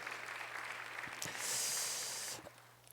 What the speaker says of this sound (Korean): 우리 뜨겁게 한번 격려의 박수 한번